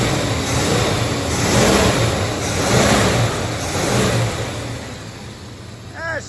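A 1970 Dodge Dart Swinger engine revving at high idle, loud and steady, with two or three slow swells in revs before easing down, and a brief metallic clatter at the end.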